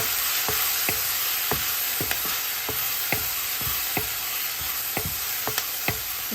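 Onions sautéing with salt and turmeric in a clay pot give a steady sizzle, broken by regular knocks and scrapes of a spoon stirring against the pot's side, close up with no voices.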